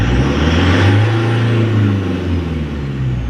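A car engine restarted after its air cleaner was removed, revving loudly and steadily up toward 3000 RPM, a deep mid-pitched drone held close up for the whole stretch with no pauses.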